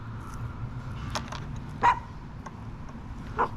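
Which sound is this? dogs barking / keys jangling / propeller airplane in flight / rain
dogs barking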